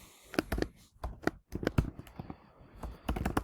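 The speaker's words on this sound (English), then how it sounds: "my typing is so bad" Computer keyboard keys clatter in quick, irregular bursts with short pauses between, close and clear, with no voices over them.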